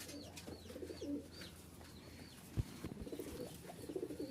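Rajshahi Giribaz pigeons cooing softly in a loft, a few low murmuring coos with faint chirps and a brief thump or wing flap, quiet and close with no talk.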